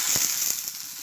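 Eggplant roasting directly over an open flame for baingan bharta, a steady close sizzle and hiss with faint crackles.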